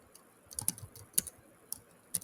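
Quiet keystrokes on a computer keyboard while someone edits a PowerShell prompt, with a few scattered taps and short bursts of clicks spread unevenly.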